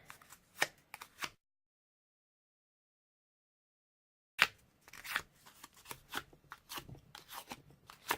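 A bone folder rubbed and curled across paper to give it a faux suede texture: a short burst of dry scratchy rustles, a long silent gap, then a busier run of crisp, uneven scraping strokes close by.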